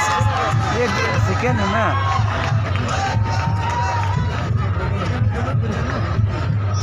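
A Wancho Idol singing contest crowd cheers for a performer in a dense, continuous roar of whoops, shouts and babble, with nearby voices yelling encouragement close to the listener throughout.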